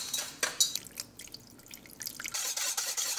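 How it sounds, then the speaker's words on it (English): Water pours into a pan holding starch and sugar for a fruit tart glaze, a short splash and trickle after a few soft drips, quiet and close. "Water in"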